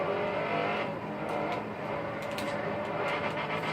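An AE86 drift car's engine drones steadily and loudly while driving, with engine noise filling the sound throughout and a few brief sharper bursts.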